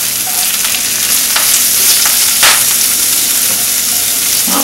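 Swiss chard fries loudly in a pan while it is stirred, giving a constant close sizzle with occasional scraping and rustling of the leaves.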